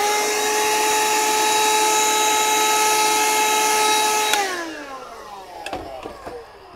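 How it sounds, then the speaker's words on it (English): A vacuum cleaner used to clean a PCB milling machine whines steadily with a strong motor tone, then spins down with falling pitch as it switches off, followed by a few light clicks and knocks. "use the vacuum cleaner"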